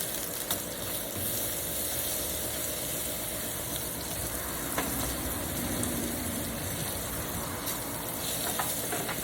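Steady, dense sizzling of potatoes frying in hot bacon grease, continuous and close, with occasional small pops and crackles throughout.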